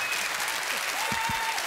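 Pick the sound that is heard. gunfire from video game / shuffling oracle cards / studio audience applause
studio audience applause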